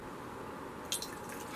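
Diet Sun-Kissed Orange soda being poured for a cocktail, a steady fizzy liquid trickle with a couple of brief splashy drips near the middle, close and alone.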